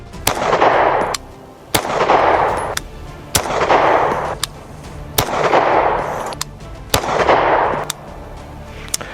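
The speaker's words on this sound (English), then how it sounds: "So I'm gonna do 5 shots left-handed." Five sharp pistol shots from a Star 30M, fired left-handed at a steady pace of roughly one every two seconds, each crack trailed by a broad, loud echoing roll across an open range.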